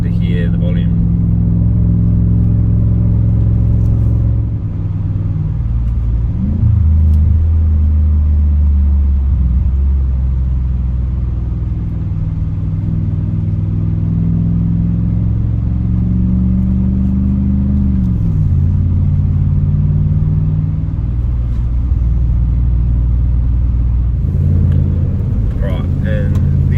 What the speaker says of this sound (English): Purposely not talking too much so you get to hear the volume.